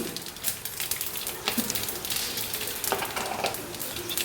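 Urad dal frying in hot oil in a steel pan gives off a continuous, soft crackling sizzle with scattered pops, heard alone without talk.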